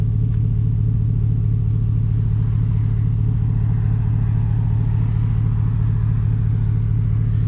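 A Chevelle car's engine idles and rumbles steadily up close as it is moved out into the sun, a continuous loud low drone with no talking.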